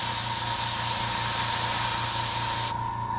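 An airbrush sprays steadily in a continuous close hiss while grass groundwork is painted on a King Tiger tank model, the spray cutting off abruptly near the end and leaving a fainter background hum.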